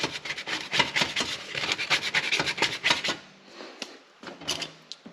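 Semi-soft body filler scraped with a spatula or razor blade during rust repair on a Ford XP Falcon body panel, a rapid run of close, rasping strokes that stop, then a few scattered scrapes and taps.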